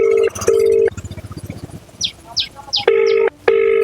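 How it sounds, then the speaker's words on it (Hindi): An outgoing phone call produces a ringback tone: steady electronic ring pulses that repeat with short gaps. A voice briefly talks between the rings, and the tones are loud and close. "लग गया एसडीओ साहब को कॉल, रिंग जा रही है"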